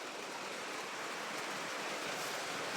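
Heavy rain pours down in a broad, even hiss of dense falling water, steady and unbroken throughout, fairly quiet overall and with no voices.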